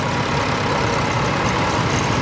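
Rare Bray 60 horsepower vintage tractor engine based on the Nuffield 10C, in the show ring at a steam fair, a loud steady low diesel rumble running continuously with outdoor crowd and ambient noise.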